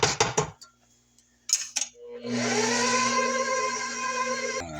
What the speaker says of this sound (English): I will scrape down and get everything in the main batch.